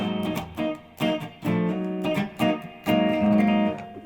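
Electric guitar strumming a ninth chord in a funk style, several choppy rhythmic stabs with short gaps between them, close and clear with no talking.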